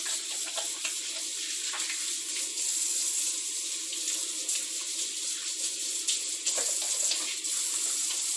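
A sink tap runs steadily as hands are washed under it, a continuous close rush of water with no voices.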